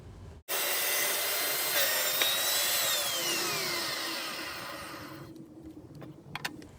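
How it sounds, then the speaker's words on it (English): Table saw ripping a 2x4 lengthwise, a loud sustained whining cut with rising and falling blade pitch, then winding down with a few faint knocks at the end. "I hopped over to the table saw and decided to rip this 2x4 in half"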